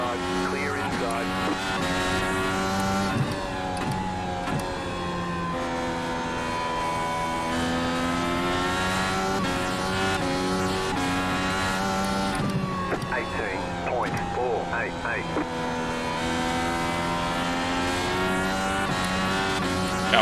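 Race cars running at IRP in the iRacing simulator as traffic gets lapped, with several engines droning at sustained high revs and shifting pitch as cars pass, heard under continuous commentary.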